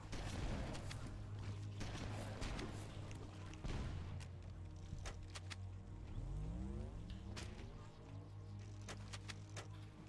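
Rocket launcher fire and explosions in Halo: Combat Evolved, heard as a series of sharp blasts and cracks over a low, steady hum of game ambience, moderately quiet overall.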